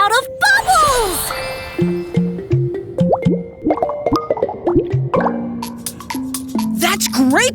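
Cartoon bubbles pop and plop in a quick, uneven string of bright, watery bloops and drips that bounce in pitch, with a sliding whistle-like tone near the start and a burst of pops at the end.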